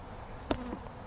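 A single short burst of buzzing from Saskatraz honey bees around a queen cage, two weeks after a package install, rises briefly and fades against quiet surroundings.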